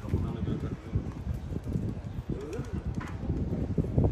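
Pigeons coo repeatedly in a street, their soft calls close and overlapping over a low background rumble, with faint voices in the background.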